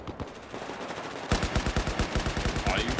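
Enemy gunfire in Battlefield 4 on the Lumphini Garden Conquest map, distant scattered shots giving way to loud rapid automatic bursts firing in a steady rhythm.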